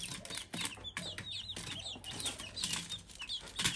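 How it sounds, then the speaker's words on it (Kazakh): Chicks inside a homemade mesh-covered brooder give a busy, close mix of high peeping and cheeping, soft clucks and fluttering wing flaps that run steadily throughout at low volume. "Ішінде міне балапандар жүр қазір"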